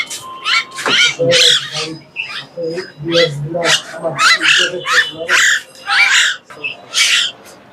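Pet birds, including mynahs and cockatiels, at a bird market, giving loud, harsh squawks and calls in rapid repeated bursts, close by and almost continuous.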